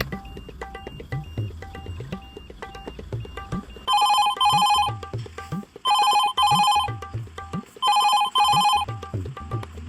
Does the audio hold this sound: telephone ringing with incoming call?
yes